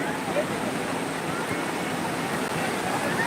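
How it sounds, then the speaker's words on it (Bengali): Sea waves wash steadily onto the beach at New Digha, a continuous broadband roar of surf with no distinct breaks, close and fairly loud across the whole stretch. "সমুদ্রের ঢেউয়ের আওয়াজ শোনো"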